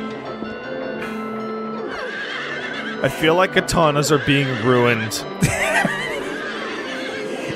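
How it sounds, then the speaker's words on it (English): Horses neigh and whinny in Silent Hill 3, a cluster of loud, warbling calls in the middle stretch over steady game ambience, with voices talking throughout. "Why would you kill all these nice horses?"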